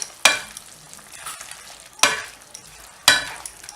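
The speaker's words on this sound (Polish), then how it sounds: "Mieszać." Pork belly frying in a pan for a Chinese dish, stirred with three distinct scraping strokes against a steady background sizzle, close and fairly loud with no talking.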